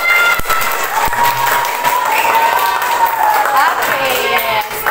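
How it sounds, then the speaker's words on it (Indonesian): Applause and cheering from an audience for a third-grade elementary school drama group after their performance of a Si Pitung play, loud and sustained, with a bright whistle-like tone running across and voices mixed into the crowd noise. "Kita kasih tepuk tangan yang meriah untuk kelompok si Pitung."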